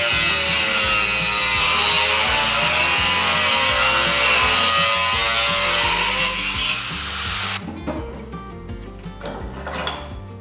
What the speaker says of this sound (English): I'm gonna go ahead and put a cutoff wheel on here and make a couple of cuts